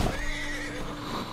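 A horse in Red Dead Redemption 2 gives a loud, close whinny that holds through the whole short moment, with faint hoof clip-clop underneath.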